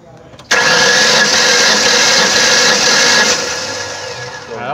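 A 2005 Ford Ranger 3.0 V6 cranks over without starting during a compression test, a sudden, loud, whirring drone that runs about three seconds and then tapers off, with people talking nearby.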